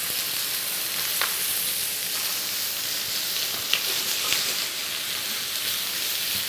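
Roasted vegetables and garlic hit hot fat in a pan with ox cheeks, giving a steady, dense sizzle throughout with a few brief crackles and stir sounds, close and fairly loud, no talking.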